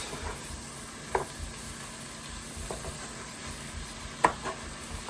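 A Guinness chilli sizzles quietly in a pan while being stirred, a steady soft hiss broken by a few brief scrapes and clicks from the spoon.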